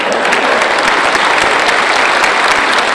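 Audience applause at a Silesian comedy and song show in Poland, a steady dense wash of many hands clapping, loud and continuous from start to finish with no talk over it.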